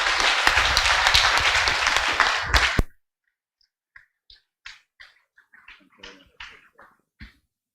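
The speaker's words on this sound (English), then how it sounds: "Can you give Rob a massive round of applause?" Audience at an Essential Tremor open day in Liverpool giving a dense, loud round of applause that stops abruptly after about three seconds, followed by quiet with a few scattered small sounds.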